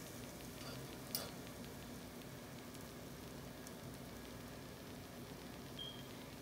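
A spicy cheese paratha made with whole wheat flour roasts on a hot griddle, giving a steady, soft sizzle and crackle throughout, with a single brief sharper pop near the start.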